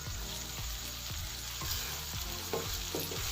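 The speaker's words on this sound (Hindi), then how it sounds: "इसको अच्छे से हम फ्राई कर लेंगे।" Tomatoes fry in a hot pan with a continuous crackling sizzle, nearby and fairly loud, with a few stirring knocks and scrapes and no talking.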